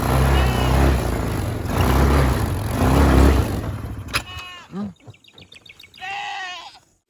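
Several goats bleat up close, wavering cries between bursts of engine rumble from a passing ATV, ending with one long bleat alone.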